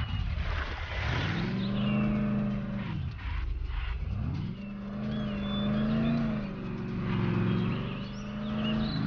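Car engine driving in the video game Call of Juarez: The Cartel, a loud continuous drone that rises and falls with repeated revving and gear shifts, heard alone without talk.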